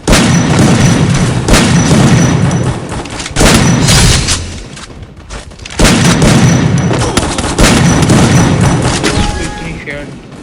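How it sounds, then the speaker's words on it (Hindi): Shotgun blasts in a video game, a series of loud, booming bursts in three long clusters with brief lulls between, heavy and close, with a voice speaking at points. "only shot gun"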